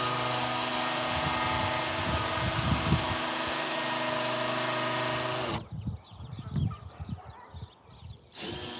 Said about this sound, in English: I'm gonna drill this just a little deeper.